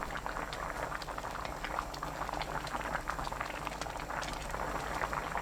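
Siraegi porridge with crab sticks boils on high heat, a dense, steady bubbling and popping heard close up and alone.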